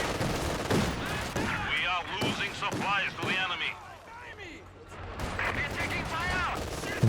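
Rapid gunfire from LMG Grenadiers' light machine guns in Company of Heroes 2, repeated bursts of crackling shots in a busy battle mix under continuous commentary.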